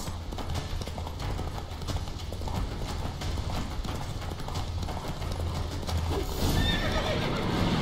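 Hoofbeats of a galloping horse with a whinny in The Witcher 3 video game, a steady clip-clop rhythm close and loud throughout over ambient game sound.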